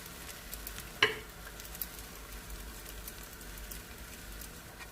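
Fresh cream is stirred into chicken and vegetable pasta in a pan, giving a soft, steady sizzle and patter with one sharp utensil clank near the start and quiet stirring after.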